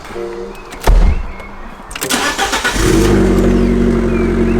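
An Abarth 595 starts up: a click and thump, the starter cranking, then the engine catches and settles into a loud, steady idle close by.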